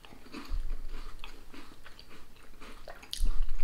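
Close, crunchy bites and chewing of a McVitie's caramel digestive biscuit, with a couple of firmer crunches at the start and end and softer mastication in between, no talking.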